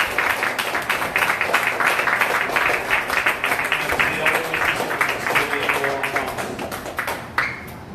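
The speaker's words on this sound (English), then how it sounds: "Please give our two guests a big round of applause." An audience at a poetry discussion applauds its two guests steadily, dense clapping that stays loud and sustained before tapering slightly at the end.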